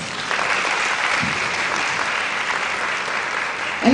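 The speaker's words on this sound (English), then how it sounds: "Give him a round of applause" Sustained audience applause at a legal scholars' public lecture, a dense steady wash of clapping from a large crowd, loud and continuous without pause.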